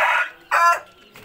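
A Bangkok fighting chicken calls in two bursts, a loud harmonic clucking squawk followed by another shorter cry, close by with no talking.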